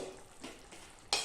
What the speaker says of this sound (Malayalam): അത് തിളച്ചു വന്നു. ഒന്ന് ഇളക്കുക.